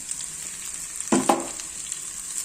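Small onions and crushed chili flakes fry in a pan with a steady, close sizzle, broken by a brief burst of louder stirring clatter partway through.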